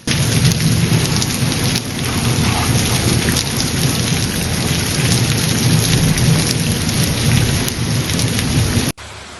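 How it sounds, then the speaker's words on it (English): A powerful morning hail storm over Piedrabuena in Castile-La Mancha, Spain, with heavy rain and thunder. The downpour roars loudly and steadily throughout, with deep rumbles underneath, then cuts off abruptly near the end. "towns were blanketed in a thick layer of hail after a powerful morning storm"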